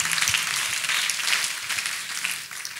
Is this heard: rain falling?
no